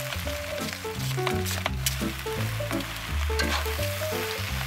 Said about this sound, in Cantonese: 剩返嘅葱油就攞嚟爆香個蝦殼。